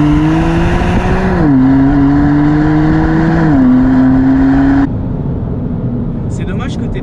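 A 500 hp bi-turbo rear-wheel-drive car accelerates hard, its loud, close engine note climbing and then dropping at two gear changes before the pull fades to a lower roar, with people talking inside the cabin.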